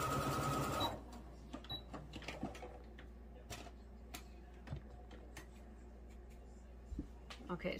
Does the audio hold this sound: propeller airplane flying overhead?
no